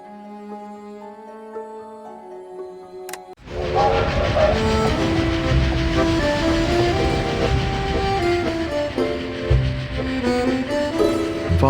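A train rolls along in Dracula 3: Path of the Dragon, with a loud, steady rumble and clatter that starts abruptly after a quiet musical opening and carries on under continuing music.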